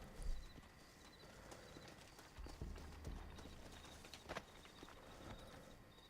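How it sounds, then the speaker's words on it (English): Horse hooves clip-clop at a walking pace in the video game Red Dead Redemption, against a soft ambient background, fairly quiet with a few louder thuds. "Looks like Carlos left us some horses"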